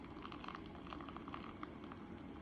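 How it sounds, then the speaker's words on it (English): Water pours from a water pot into a thermos, a close, steady trickle with bright bubbling splashes over a constant low background hum. "Imagine this water coming out of my water pot like a trickling waterfall"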